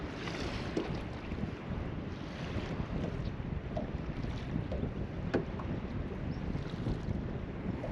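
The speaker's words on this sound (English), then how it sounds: "this wind is brutal" Strong wind buffets a small fishing boat on open water where smallmouth bass are being caught, a steady loud roar of gusts and microphone buffeting with faint waves lapping against the hull throughout.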